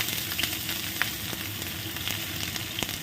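Capsicum frying in white oil for corn fried rice, a steady dense sizzle running continuously at close range with a few faint scraping stirs, no voices.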